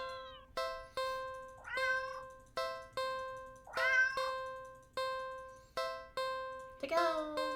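A cat in a video game gives several short meows between regular plinking musical notes, clear and close.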